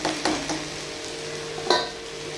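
Cabbage cooks with a fish head in a pan, giving a steady soft sizzle under a few sharp metallic scrapes and taps of a utensil against the pan.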